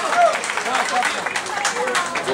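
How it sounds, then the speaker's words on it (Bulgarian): An audience applauds the winner of a stage contest between two competitors, a fairly loud and steady spread of many hands clapping, with a voice talking over it. "аплодисменти за него"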